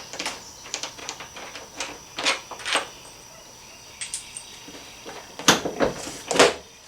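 The seat comes off a Honda CRF250L motorcycle in a series of short plastic clicks, scrapes and knocks, irregular and close, with a couple of louder clunks toward the end.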